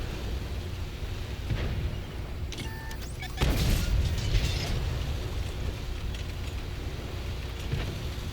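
Two tank gun shots go off in quick succession in a video game battle, the second a louder, booming blast with a rumbling tail over steady background engine noise.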